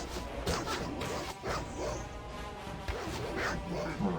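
Wild dogs bark and yip in the Baldur's Gate video game during a fight, quick overlapping barks among clashing sounds, steady and moderately loud throughout.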